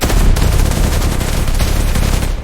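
Sustained, loud gunfire in a dramatic scene, a continuous dense volley of rapid shots close up with no pauses and no talking.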